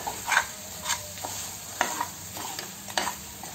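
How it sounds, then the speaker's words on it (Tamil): A spoon stirs and mixes spicy mutton pepper chukka with smashed cooked tomatoes in a pan, with rhythmic scraping strokes about every half second over a steady background sizzle. "இந்த ஸ்டேஜில் இதெல்லாம் ஒன்றா மிக்ஸ் பண்ணிக்கோங்க."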